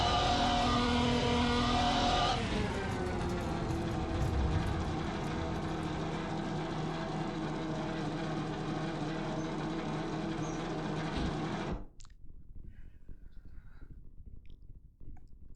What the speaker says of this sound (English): The downshifts weren't synchronized at all coming down on the first lap into turn.